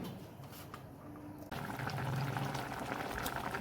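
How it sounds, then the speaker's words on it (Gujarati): A pot of water with a little oil heats on the stove, giving a steady bubbling hiss that grows fuller and louder partway through, close and continuous with no voices. "તો આપણે પાણી ગરમ કરવા મૂકી દીધું છે।"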